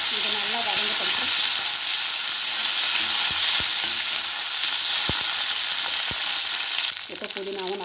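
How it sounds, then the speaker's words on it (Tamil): A bunch of mint leaves sizzles and fries loudly in a hot pan for tomato chutney, a continuous close hiss broken by a few sharp stirring clicks and scrapes, with the sizzle shifting near the end. "நாம் புதினா ஒரு கட்டு சேர்த்துக்கலாம். இது நல்லா வதங்கட்டும்"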